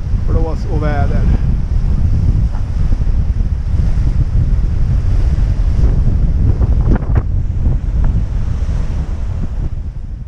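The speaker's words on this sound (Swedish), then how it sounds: "Blås och väder." Strong wind and rolling waves aboard a sailboat at sea in the Bay of Biscay: a loud, steady roar of wind buffeting the microphone over surging water, with a brief voice early on.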